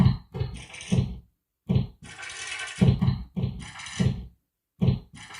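Drum kit built from samples of a book snapping shut and pages flicking, playing a trap-style beat with thumping low hits, papery rustling bursts and quick hi-hat-like page ticks in a looping pattern, no talk.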